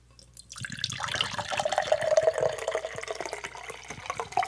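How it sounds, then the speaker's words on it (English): Arnold Palmer drink poured heavily into a glass, a steady splashing liquid stream starting after a brief quiet moment and continuing close and loud throughout. "Sounds like you're pouring a lot. Yeah, that's a heavy pour."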